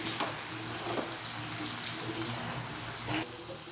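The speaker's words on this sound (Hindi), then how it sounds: "फिर प्याज फ्राई होते ही" Onions fry in a pan for Maggi noodles, giving a steady, fairly quiet sizzle with a few faint clinks and no talking.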